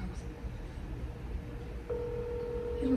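A phone call ringing out on the line, a steady ringback tone starting about two-thirds of the way in and holding under faint background noise, with no answer.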